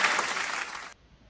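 Clapping in a podcast studio, a brief burst of dense clapping heard up close that cuts off abruptly after about a second, leaving near silence.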